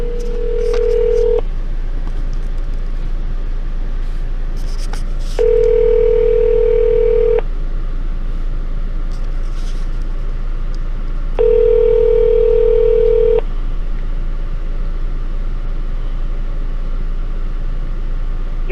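A telephone line drones with a constant low hum, while a ringback tone sounds in three long, evenly spaced pulses, with faint clicks between them.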